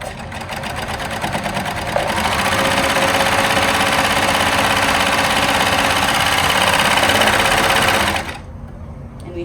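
A Baby Lock Victory 4/3/2 thread serger stitches cotton fabric with a fast, steady mechanical whir that runs for about eight seconds, then stops abruptly.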